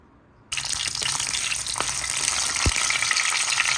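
Garlic and onion hit hot oil in a pan and sizzle loudly, a steady frying hiss that starts abruptly after a brief quiet moment and continues with occasional stirring clinks.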